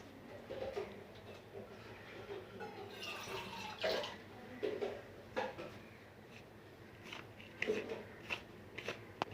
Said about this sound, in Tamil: தயிரெல்லாம் சேர்த்துட்டு இப்போ நான் இதை நல்லபடியாக குழைக்க போகிறேன்.